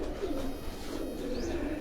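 Lakha pigeons at a loft in Pindi Bhattian coo softly, faint and close, over a steady low background hum with no talk.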